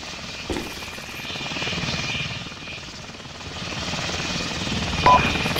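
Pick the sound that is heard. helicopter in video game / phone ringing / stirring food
helicopter in video game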